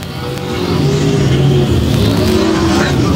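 Sprint race cars run nose to tail around a speedway oval, their engines roaring loud and close in a dense, continuous drone that swells and holds.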